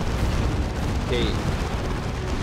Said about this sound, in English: Another napalm over there.